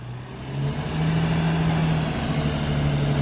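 A car engine is revved up from idle to a steady, higher drone that rises after half a second and holds loud and close.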